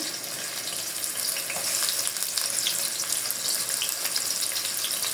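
Steady, dense sizzling of chopped onions frying in hot oil, a continuous crackling hiss at even loudness throughout, with no voices.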